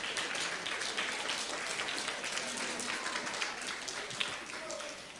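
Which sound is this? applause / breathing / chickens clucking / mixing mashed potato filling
applause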